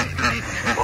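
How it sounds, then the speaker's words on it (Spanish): Ducks quacking in a park as they are thrown bread, a short burst of loud, close calls with a voice mixed in. "Trajimos pan para aventarles a los patos."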